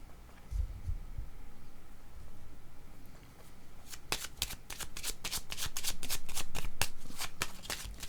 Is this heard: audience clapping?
no